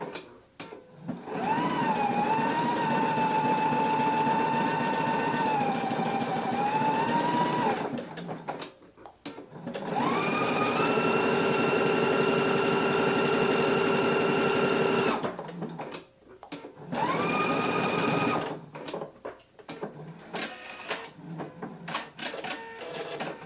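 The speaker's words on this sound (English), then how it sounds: "So now I'm just going to go ahead and start sewing." A sewing machine stitching buttonholes on a shirt with a buttonhole foot, loud close whirring runs of several seconds each with pitch shifting as the speed changes, separated by short pauses.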